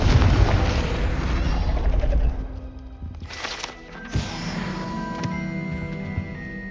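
A Confringo fire spell in the Hogwarts Legacy game bursts in a loud, booming blast that decays into a crackling rumble, then a second sharper burst follows with lingering ringing tones.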